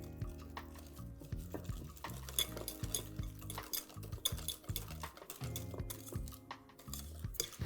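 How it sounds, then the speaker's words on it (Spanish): Chocolate muffin batter is mixed in a bowl, with a utensil scraping and clinking against the sides in an irregular, repeated rhythm, fairly quiet and close with no talking. "Y ahora mezclamos."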